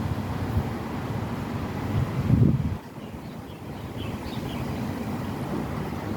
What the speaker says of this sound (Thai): ลมเย็นเย็นทุกคน ลมเย็นมาก